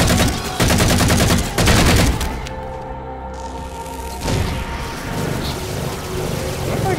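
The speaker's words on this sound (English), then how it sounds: "I'm almost already out of ammo for my assault rifle" Assault rifle fire in Halo 4, dense loud bursts of rapid shots in two clusters, then a lull with a humming engine drone before scattered gunfire and battle noise resume.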